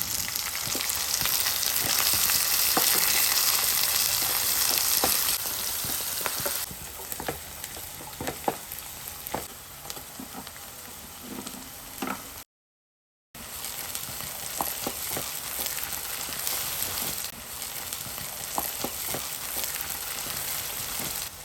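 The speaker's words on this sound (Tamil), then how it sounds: "பூண்டு சேர்த்து நல்லா வதக்கிக்கலாம்." Garlic sautéing in a pan for a jackfruit seed prawn gravy, a steady close sizzle with scattered stirring clicks and scrapes, loud at first and then settling lower, with no talking.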